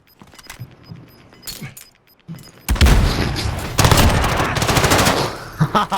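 A suppressed weapon fires in a first-person video game, first as a few sharp, muffled shots over quiet background, then as dense, loud, sustained gunfire and in-game action filling the rest.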